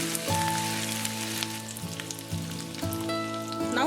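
Green chilies and ginger frying in hot oil for aloo samosa filling, a dense, close, continuous crackling sizzle, with steady hum-like tones from the kitchen breaking off briefly a few times.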